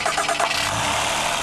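Acura TL with a 3.7-litre V6, its engine revving in a brief, steady, loud burst of mid-pitched roar.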